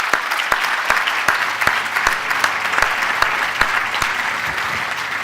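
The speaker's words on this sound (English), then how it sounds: "Give him a round of applause." Applause for speaker Emil Sandel at Momentum Day in London, a full crowd clapping steadily while a few louder individual claps stand out in a regular beat.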